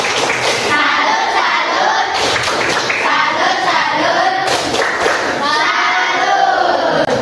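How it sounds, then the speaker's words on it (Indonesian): A middle-school classroom applauding together, loud rhythmic clapping mixed with children's voices chanting in a patterned clap routine, continuous and close throughout. "kasih tepuk tangan yang meriah"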